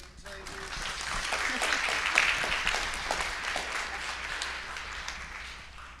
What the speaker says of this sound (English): round of applause for the nature table